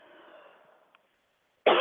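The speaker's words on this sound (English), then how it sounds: "like this cough." A single sharp cough, close and loud, coming after a faint stretch of breathy background noise on a radio show.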